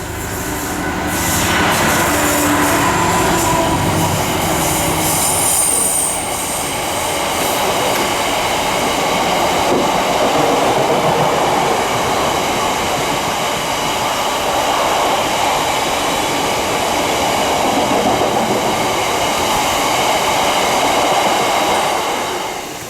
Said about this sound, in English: 59201, passes on a heavy haul rail service.